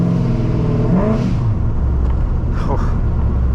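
A C5 Corvette fitted with a Racetronics fuel pump and a custom tune revs up in a deep, close rumble, climbing and settling over a few seconds while someone talks over it.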